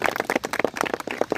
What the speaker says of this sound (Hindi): आप तालियां मार के एक बार स्वागत कीजिए डॉक्टर सुधीर जी